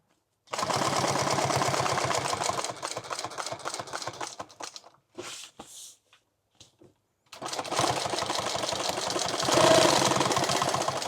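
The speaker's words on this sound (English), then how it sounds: "And then we will sew this right back on here." A sewing machine stitches a padded helmet and night-vision bag in fast rattling runs, with a pause in the middle filled by a few handling clicks and rustles before stitching resumes, loud and close.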